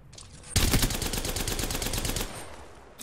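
Video game battle gunfire: a sudden rapid burst of automatic fire, loud and close, rattling continuously for nearly two seconds before stopping.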